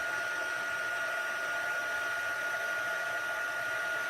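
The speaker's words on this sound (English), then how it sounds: "I'm just heating, this was just clear embossing powder on top of that black VersaFine, which is a pigment ink." A heat tool blows a steady, loud hiss of hot air, melting clear embossing powder over black VersaFine pigment ink, the whoosh continuous and unbroken throughout.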